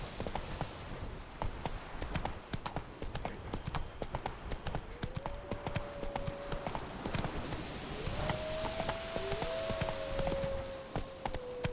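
Roach, a horse in the video game The Witcher 3: Blood and Wine, gallops with fast, rhythmic hoofbeats that continue throughout over a sustained musical tone, loud and close.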